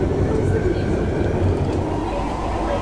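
A Singapore metro train rumbles steadily from inside the carriage, a loud continuous low roar with rail noise throughout, while voices talk beneath it.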